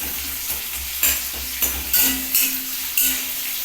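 Rings of bottle gourd fry in a pan with a loud, close, continuous sizzle. Several sharp scraping and stirring strokes cut through it at uneven intervals.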